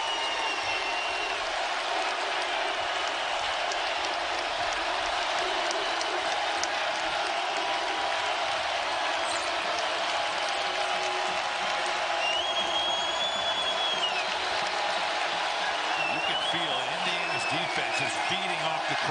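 A basketball arena crowd fills the air with sustained applause and cheering through a college game between Indiana and Florida Gulf Coast, mixed with an announcer's commentary and a few faint squeaks.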